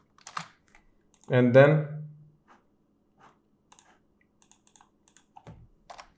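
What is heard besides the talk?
typing on a computer keyboard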